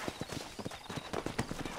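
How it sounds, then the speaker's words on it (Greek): Horse hooves clip-clop in the Red Dead Redemption video game, a quick, steady rhythm of hollow knocks up close, with low game ambience underneath and no speech. "Έλα το άλογο."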